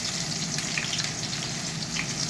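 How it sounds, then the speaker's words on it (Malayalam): Long-sliced green chillies sizzling in hot oil with mustard seeds, a dense continuous crackle heard close and loud throughout, no voices. "ഇനി ഇത് പച്ചമുളക് ഇട്ട് കൊടുക്കുവാണ് ഞാൻ പച്ചമുളക് നീളത്തിലരിഞ്ഞത്"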